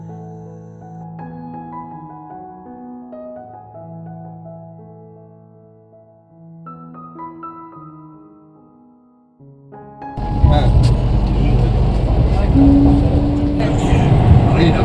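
Music plays for about ten seconds, then a Kolkata Metro train on the line running under the Hooghly River takes over with a loud, close, sustained roar and rumble at the platform.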